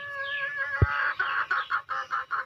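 A hen that has just laid an egg clucks in a repeated series of short, close cackles, loud and rhythmic, with one sharp thump early on; no voices.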